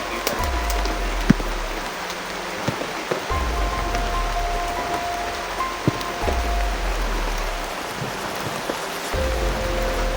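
Rain falls in the mountains as a constant hissing patter of drops on surfaces, fairly loud and close, with a low rumbling pulse recurring every few seconds beneath it.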